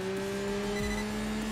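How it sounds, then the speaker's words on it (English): A race car engine fitted with a turbo kit in the driving game Enthusia Professional Racing holds a loud, steady tone, with a quick shift dip partway through this brief burst. "This car sounds amazing though"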